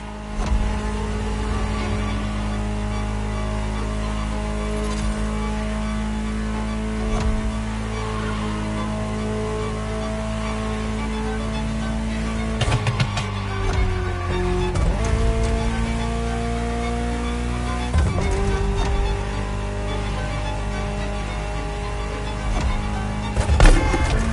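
A powerful Ferrari supercar engine rumbles and revs, pitch climbing through several gear changes as it accelerates, loud and close throughout.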